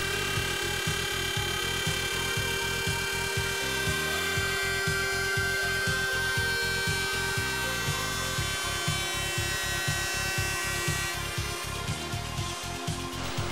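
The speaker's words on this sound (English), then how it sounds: "can be produced with the universal mill" A loud, steady high-pitched machine whine with rapid rhythmic chattering pulses as a Hundegger K2i universal mill cutter profiles a timber rafter end, continuous throughout and close up.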